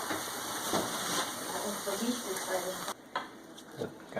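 Puerto Rican pasteles boil in a pot on the stove, giving a steady bubbling hiss and sizzle with soft stirring scrapes, while people talk quietly close by.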